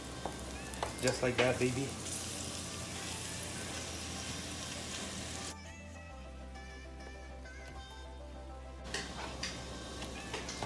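A ground beef patty sizzles in a hot pan for taco filling, a steady close frying hiss with occasional pops and a pan tap early on, and someone speaks briefly over it.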